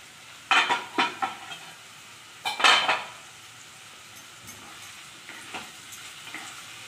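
A spatula stirring bottle gourd and potato posto curry in a pan, a few quick scraping clinks in two short clusters, then faint occasional taps over a quiet background.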